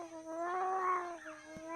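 A cat gives a drawn-out, wavering meow that rises and falls in pitch, close and fairly quiet, heard alone.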